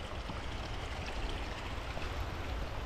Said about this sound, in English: A little narrow stream there.